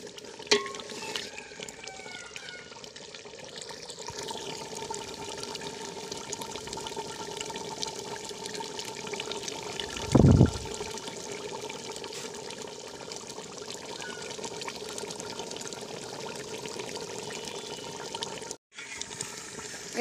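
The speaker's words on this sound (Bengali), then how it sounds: "আর এই মাংসটাকে আমি এখন ভালোভাবে নেড়েচেড়ে কষিয়ে নেব।" Beef being stirred and fried in a pan while cooking a bhuna, a steady soft sizzle with scraping stir sounds, one louder clatter midway and a brief drop near the end.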